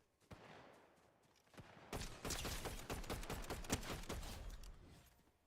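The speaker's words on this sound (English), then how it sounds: "There's a lot of gunfire right here." Video game gunfire: bursts of rapid shots, scattered at first, then a sustained volley of overlapping rounds, sharp and fairly close.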